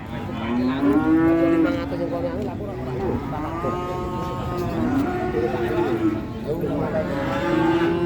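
Cattle moo repeatedly at the Jetis Ponorogo cattle market in East Java, several loud drawn-out calls overlapping close by amid crowd noise.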